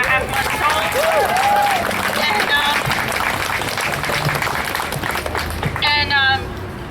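A crowd claps at an outdoor Albany speak-out protest for Breonna Taylor, steady dense applause mixed with loud voices and shouting that continues throughout.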